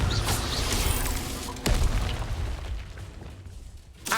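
A Confringo spell blast in a Hogwarts wizarding video game: a loud booming explosion with a sharp crack near the middle, followed by a rumbling fiery tail that fades, then another burst at the end.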